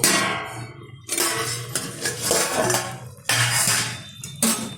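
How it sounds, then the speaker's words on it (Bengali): A metal lid lifted off a cooking pot of drumstick stalk, potato and pumpkin curry, giving several sharp clanks and clinks of lid against pot, loud and close, with no talking. "ঢাকনাটা তুলে দিচ্ছি"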